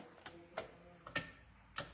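A clock ticks softly in a steady tick-tock rhythm, four crisp, faint clicks spaced roughly half a second apart in a quiet room.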